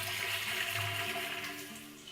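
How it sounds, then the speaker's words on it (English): Five litres of boiling water poured into a home-brew beer keg to sanitize it, a steady broad rushing splash that holds evenly for about two seconds with no voices. "to sanitize this keg, we will put 5 litres of boiling water in here."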